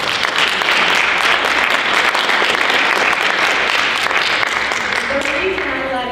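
Sustained applause from a room full of people at a real estate industry event, dense and steady throughout, with a voice briefly audible over the clapping near the end.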